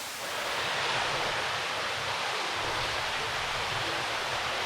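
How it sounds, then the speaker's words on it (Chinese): Water falls from the ceiling of a limestone cave near New Melones Lake, California, as a faint, constant rushing wash with no distinct separate drips and no voices. "在洞里，基本上我们讲话的声音就听不到了，你只能听到都是水声。"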